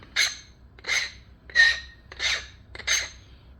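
Snowflake obsidian blade being flint knapped, its thick edge portions worked down to sharpen it: five short scraping, raspy strokes in a steady rhythm, close by and moderately loud, with quiet pauses between them and no talking.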